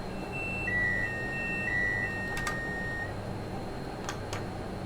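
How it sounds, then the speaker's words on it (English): An electronic bleep from the cab systems of a Class 390 Pendolino in Train Sim World on the West Coast Main Line, a sustained steady tone over a low cab hum with a few faint clicks. "So first we'll get a bleep from here."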